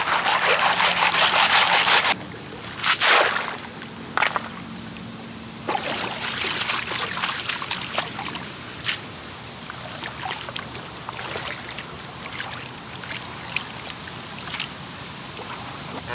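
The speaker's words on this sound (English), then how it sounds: "I need to break all that up, make sure I wash any gold out." Gold pan sloshed and swirled in Mississippi River water in Minneapolis, a loud rush of splashing at first, then steady trickling and dribbling with scattered sharp splashes, close by and without talk.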